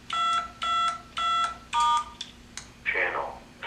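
DTMF keypad tones dialing a code to activate channel 2 on a radio, four short evenly spaced beeps followed by a brief burst of noisier tone, clear and close.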